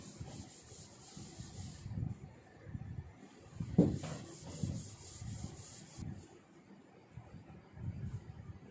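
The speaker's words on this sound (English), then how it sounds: "Now I'm going to rub this out." Eraser rubbing across a classroom board, a soft, uneven scrubbing in repeated strokes that runs steadily for several seconds at moderate loudness, with no talk over it.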